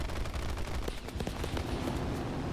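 Machine guns of a Yak-1B fighter aircraft firing in a combat flight video game, a dense rapid burst of gunfire lasting a couple of seconds, loud and close.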